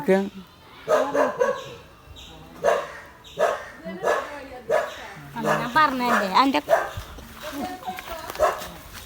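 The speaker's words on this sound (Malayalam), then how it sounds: "പട്ടി പട്ടി പട്ടി" A dog barks repeatedly while people talk and shout nearby, with barks and voices overlapping throughout.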